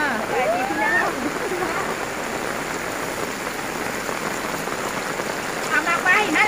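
Steady rain patters and hisses across an open-air market, a dense wash of drops throughout with people's voices and chatter mixed in underneath.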